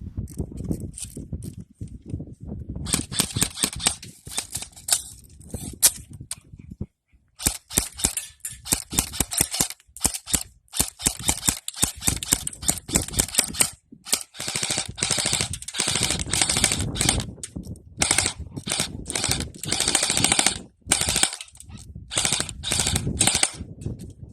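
A G&G Scar L airsoft rifle, an electric gun firing around 300 to 350 FPS on a small battery, shoots in rapid full-auto bursts with short gaps, loud and close, with a few single shots and no talking.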